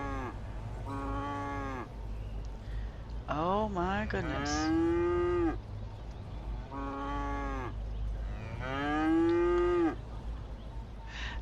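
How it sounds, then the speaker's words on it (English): Cows moo repeatedly in long, drawn-out calls on a farm in the game Cities: Skylines, several overlapping, with a brief exclaimed voice between them over a steady low hum. "if we don't want to hear the cows and the pigs and the whatever"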